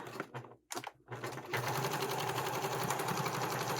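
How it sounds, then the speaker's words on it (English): A sewing machine stitching a sling strap, starting after a few short handling noises and then running in a steady, fast, continuous whir close by. "So I am going to sew this in place."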